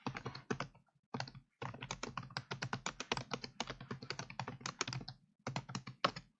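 Computer keyboard being typed on rapidly, with quick bursts of crisp, close key clicks separated by short pauses, quiet overall.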